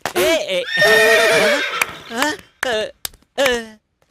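A horse whinnies loudly in a long, shaky neigh, followed by a few shorter snorts and whinny bursts with brief pauses between.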